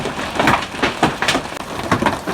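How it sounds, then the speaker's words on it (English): Hail falling during an evening rain, a dense loud clatter of pellets striking surfaces close by, with irregular sharper impacts over a steady rushing patter. "it's been raining for a while, but now we're getting hail"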